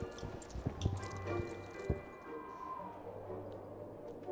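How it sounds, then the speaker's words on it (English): Hooves of a gingerbread horse in the horse-riding game Star Stable, faint irregular clip-clop steps over quiet background ambience, with no talking. "here we are, the gingerbread horse"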